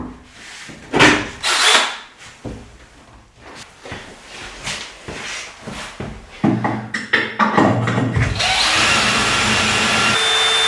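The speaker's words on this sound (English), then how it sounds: "Now I will drill the holes from the bottom for the screws that will hold it in place." Power drill boring screw holes from underneath into a wooden tabletop of a heavy-duty foldable assembly table; a steady, loud whine builds after a stretch of quieter handling and knocks, running continuously to the end.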